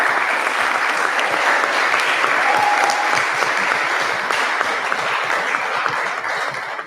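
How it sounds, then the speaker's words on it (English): An audience at a school senior thesis event at Logos Academy applauds the seniors gathered on stage, a loud, dense, steady clapping that fills the whole stretch and eases only slightly at the end. "we can clap for the seniors"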